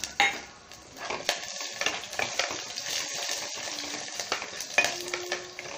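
Garlic frying in a pan of oil for a Tamil herbal kuzhambu, a steady close sizzle with occasional stirring scrapes and light clinks of utensils against the pan.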